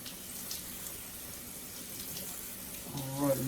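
Running water rinses a K&N air filter from the inside during a Jeep Wrangler filter cleaning, giving a steady close wash that swells slightly near the end.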